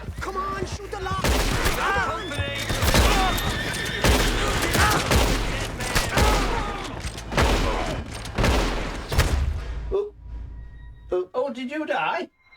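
Red Dead Redemption 2 gameplay: rapid gunfire bursts and single shots crack repeatedly amid horses neighing and hooves clopping, loud and chaotic, with players talking over it before the noise thins near the end.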